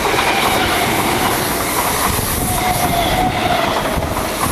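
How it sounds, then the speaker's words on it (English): A train runs on rails, a loud, continuous rumbling roar with rattling wheel noise and a faint squeal, close by and steady throughout with no talking. "a large amount of noise and vibration are produced when the train moves"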